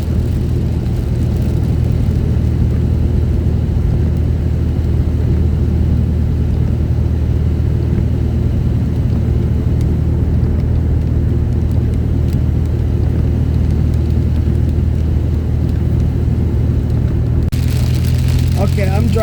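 Car driving on a slick road in heavy rain during a storm, a steady loud engine rumble and tire hiss running throughout, close and continuous.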